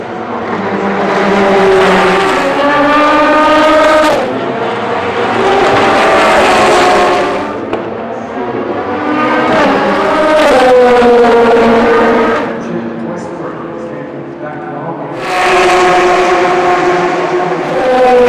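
Race cars at the 2022 Le Mans 24 Hours roar continuously and loudly, engines rising and falling in pitch as they pass and accelerate, one after another without a break.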